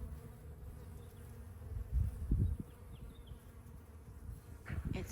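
Honeybees buzz among garden plants: a soft, continuous insect hum under faint outdoor background noise. A few slightly louder swells come and go as the bees move nearby, and no one speaks.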